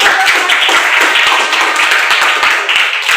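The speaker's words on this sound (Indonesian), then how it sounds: "tinggal tepuk tangan." Classroom of students clapping their hands together in a lesson, a loud, dense and continuous patter of many close claps with a few sharper individual strikes.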